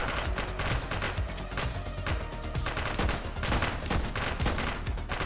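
A shooter video game with steady, dense gunfire, rapid overlapping bursts that continue loudly and unbroken from start to finish.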